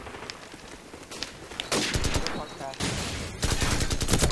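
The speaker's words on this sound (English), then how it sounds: "Oh, I'm getting sniped already." Sniper rifle shots ring out in a video game shooter as sharp, loud bursts of gunfire, with a quieter stretch before them, heard close.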